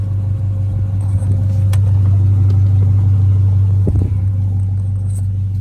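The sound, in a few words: Toyota Avalon car engine running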